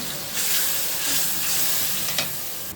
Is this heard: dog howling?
no